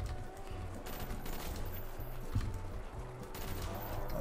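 Gunfire in the Call of Duty zombies map Kino Der Toten, with rapid repeated shots in choppy bursts over a busy game background, moderately loud and close.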